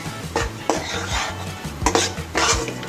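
Flour being stirred and roasted over a medium flame in a pan, with a utensil scraping and knocking against the metal in irregular strokes, close and fairly loud, with a faint sizzle underneath and no talking.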